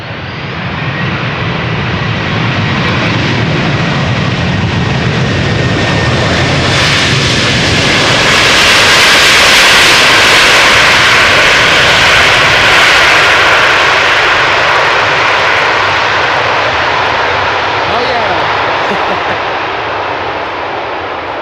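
A Delta airliner landing on the Polderbaan runway at Amsterdam Schiphol on a hot sunny day, its loud jet roar swelling to a peak midway and then slowly fading, close and overwhelming with no talk.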